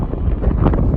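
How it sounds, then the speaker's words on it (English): Wind buffets a microphone outdoors as a steady, loud, low rumble with gusty swells that fill the whole moment. "Oh my God, it's windy."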